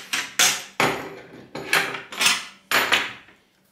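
Clamps being fitted onto a Parkside PSST A1 jigsaw table give a series of about six sharp, close knocks and clacks with short ringing decays, spaced irregularly.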